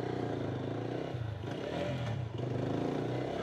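A Lifan KPT 200 4V motorcycle runs steadily on a test ride, its engine drone close and constant with slight rises in revs and some rattle and wind noise.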